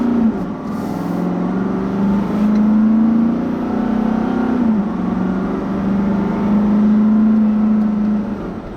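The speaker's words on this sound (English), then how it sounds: "this 5-liter Cummins V8. It has very smooth power, refined power. It sounds good." A 2016 Nissan Titan XD pickup with a 5-liter Cummins V8 diesel pulls away under acceleration, its engine note rising smoothly and steadily for several seconds before easing off near the end, heard from inside without talk.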